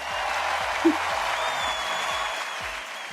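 A crowd cheering sound effect plays as a continuous, even wash of applause-like noise, moderately loud, with one brief bump near the start.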